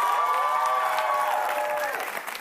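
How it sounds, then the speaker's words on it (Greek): Studio audience on a Greek showbiz talk show breaking into loud, steady applause with some cheering, a dense wash of clapping that fades slightly at the end. "ένα χειροκρότημα για τους Αλκατράς."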